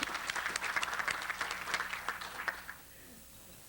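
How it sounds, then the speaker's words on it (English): An audience breaks into warm applause for a 91-year-old mother at a civic talk in Portland, a dense burst of clapping that fades out after a few seconds into near silence. "So let's give her a round of applause."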